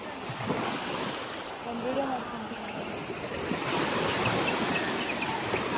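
Steady broadband rush of Kaveri river water washing against a shore near the KRS dam backwaters, mixed with wind buffeting, continuous and fairly loud throughout.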